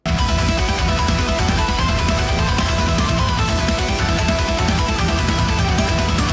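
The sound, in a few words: technical melodic metal band music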